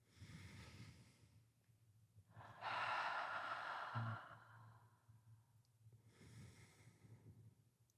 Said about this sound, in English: taking a few breaths in and out